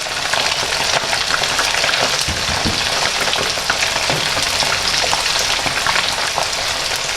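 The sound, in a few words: chicken wings frying in oil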